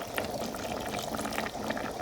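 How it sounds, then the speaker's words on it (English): Water is poured into a pan to cook radish greens, a steady, continuous splashing rush that stays loud and even throughout with no voices. "I'm gonna put some water."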